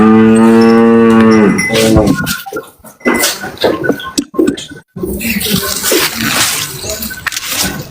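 A cow moos loudly and close by in one long drawn-out call, followed by several seconds of rough, noisy rustling and shuffling.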